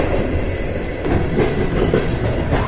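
A Riga–Gulbene passenger train running in Latvia: a loud, close, steady rumble with rhythmic clickety-clack of wheels over rail joints throughout.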